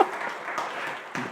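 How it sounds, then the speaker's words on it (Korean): A church congregation applauds during a Korean Sunday worship service, a brief, steady wash of clapping at moderate level. "내가 박수 한번 쳐줄게."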